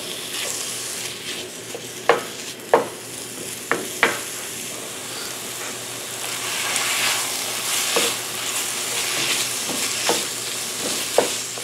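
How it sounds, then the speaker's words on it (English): Breakfast sausage for Southern-style gravy sizzles steadily in a pan while a utensil breaks it up, giving a string of sharp scraping knocks against the pan over the constant frying hiss. "you're gonna break up your sausage and let it get nice and browned and cooked"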